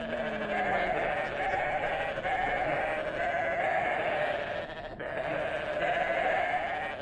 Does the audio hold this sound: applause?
no